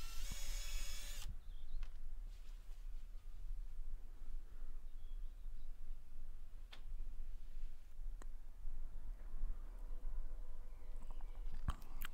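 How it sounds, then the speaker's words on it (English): A power drill bores pilot holes in pallet wood for cladding an old fence panel: a short high-pitched whine at the start, then quieter scattered ticks and knocks over low background rumble. "So now I'm going to drill a few pilot holes,"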